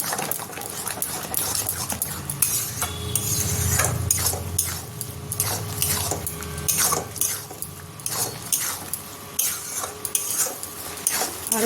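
Taro stem (kochu data) curry with coconut stirred in a metal pan, continuous scraping of a spoon against the pot with clinks and a soft sizzle, close and steady.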